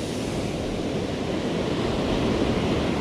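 Ocean surf rolling onto the beach at Isipingo, Durban, a steady, loud wash of breaking waves with some wind noise, no voices.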